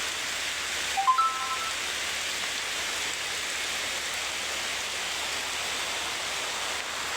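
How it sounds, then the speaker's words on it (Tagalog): Outdoor rain pours as a dense, steady hiss throughout, with a brief faint electronic chirp near the start. "Tigil ng ulan, tigil."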